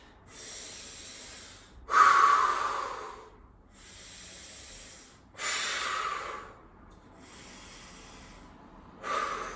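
Deep, forceful breaths during a core workout hold: three long airy exhales, about two seconds apart, rush out close and loud with quieter inhales between, nobody talking.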